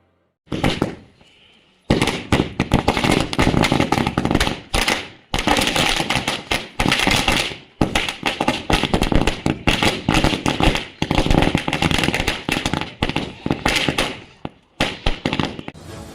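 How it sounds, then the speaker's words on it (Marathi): A long, dense string of firecrackers crackles and bangs nearby at a village celebration for a racing bull, loud and rapid, with brief pauses between bursts. "फटाक्यांच्या आतिशबाजीमध्ये व ओवाळ आनंदोत्सव साजरा करण्यात आलाय"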